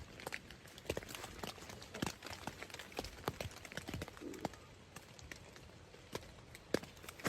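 Footsteps crunch outside a tent in a forest, a scattered series of faint steps on the ground at a distance amid quiet night ambience.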